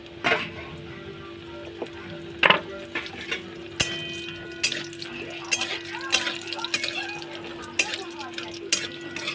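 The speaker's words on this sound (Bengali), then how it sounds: "তেল গরম হয়ে গেছে এর মধ্যে আমি বড়ি দিয়ে দিলাম" Lentil dumplings (bori) frying in hot oil with a low sizzle, punctuated by repeated clinks and scrapes of a utensil against the pan, close and fairly quiet.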